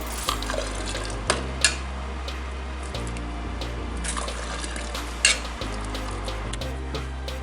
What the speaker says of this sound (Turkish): şöyle şişeme dolduruyorum